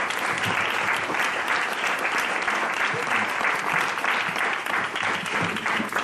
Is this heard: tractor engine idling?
no